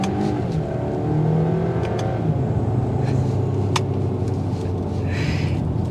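2023 VW Arteon SEL R-Line 4Motion accelerating on the road, heard from inside as a steady engine and road rumble that rises slightly, with a few faint clicks and no talk.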